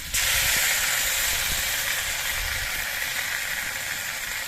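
Chili paste fries in a pan with fish curry spices, giving a loud, unbroken hiss that starts abruptly and holds steady throughout.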